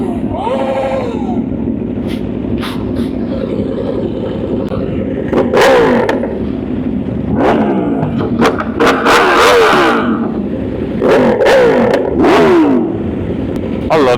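At a cars and coffee meet, a motorcycle engine revs in repeated choppy bursts with rising and falling pitch, mixed with other passing vehicle noise while people talk nearby.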